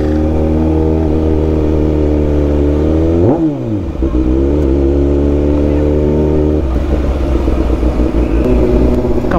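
City street traffic in Dagupan with cars and motorcycles passing close, engines droning steadily; a sports bike revs sharply near the middle, then engine noise resumes with rattly clatter.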